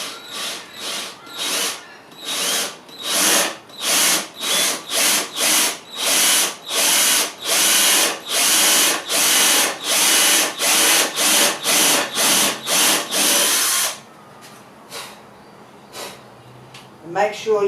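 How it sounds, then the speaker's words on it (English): A power drill runs in a rapid series of loud, short bursts boring into wood while building a bookshelf, then stops, leaving quiet room noise with a faint clatter at the end. "make sure you keep your drill upright"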